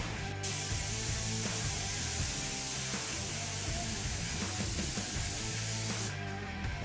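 A paint sprayer sprays continuously at close range, a steady dense hiss holding for nearly the whole stretch before cutting off abruptly near the end.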